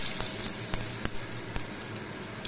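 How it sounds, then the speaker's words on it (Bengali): Potatoes go into hot oil with tempering spices in a home kitchen pan. They set off a loud, continuous close-up sizzle with sharp crackles and pops throughout. "আমি এবার এর মধ্যে আলুগুলো দিয়ে দিচ্ছি।"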